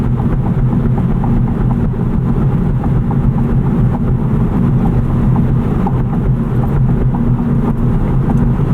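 A 2023 Acura Integra accelerates, heard from inside the cabin as a steady, loud low engine and road roar that holds throughout without voices.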